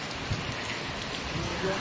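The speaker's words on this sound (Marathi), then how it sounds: "पाऊस सुरू झाला त्याच्यामुळे आता आपण थांबलो इथं." Steady rain pours down in a dense, even hiss, with drops pattering on nearby surfaces throughout.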